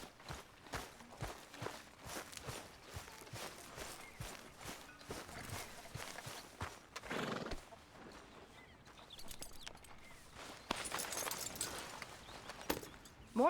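Hooves clip-clop steadily in a video game, a continuous run of soft rhythmic hoofbeats held at moderate distance, with faint ambient sound around them.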